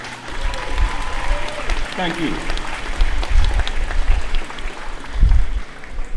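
Graduation ceremony audience in Belmopan, Belize applauding their teachers and staff, a broad wash of clapping that swells and fades over several seconds, with a voice speaking briefly over it.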